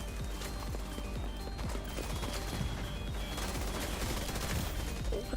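Sustained, dense barrage of gunfire in The Division 2 shooter, rapid overlapping shots and impacts rattling continuously at steady loudness with no talking.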